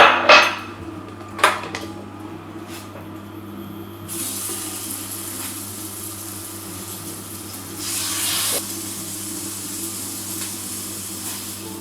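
A pan clanks a few times, then a steady, fairly close hiss sets in as a batch of turkey and courgette burgers fries in coconut oil, with a brief louder sizzle partway through.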